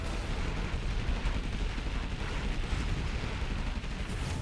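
Dense, continuous rapid-fire rumble of Gatling cannon fire and explosions in the video game Red Alert 3, loud and unbroken, with no clear gaps between shots.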